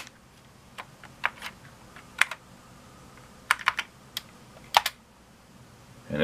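Keys tapped on the keyboard of an Apple I clone computer (Briel Replica I), a few sparse, close clicks in small clusters with quiet gaps, no talking.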